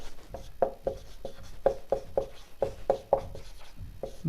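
Pen scratching out handwritten notes in a series of short, rhythmic strokes, close and clear, with no one speaking.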